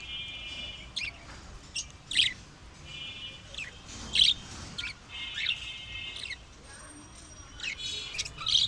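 A breeding pair of Japanese JB pet birds, a big-sized master pair, chirps in repeated short bright bursts at close range, sharp calls recurring every second or so over a soft background hiss.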